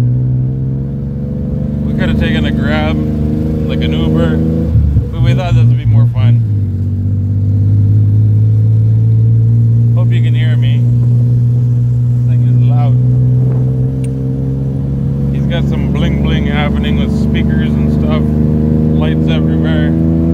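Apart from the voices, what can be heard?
tuk-tuk engine driving in Thailand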